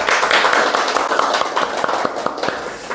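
An audience claps to open a sales training session, giving a short burst of scattered, moderately loud hand claps in an indoor room.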